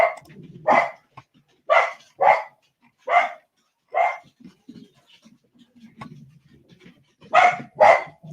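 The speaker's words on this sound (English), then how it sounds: "Dogs losing their minds over nothing." A group of house dogs barks in repeated loud bursts, with quieter panting and whimpering between them, close by and without talk.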